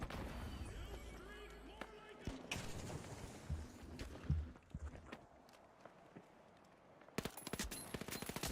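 Gunfire rattles in The Finals, a shooter video game, with several sharp rapid bursts and a few louder close shots, while a player talks over the action.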